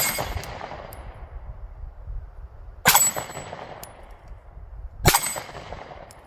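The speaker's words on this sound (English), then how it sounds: "All 3 hit the gong." Three rifle rounds strike a 6-inch steel gong in turn, each giving a sharp metallic clang with a short ringing tail, spaced a couple of seconds apart against outdoor background noise.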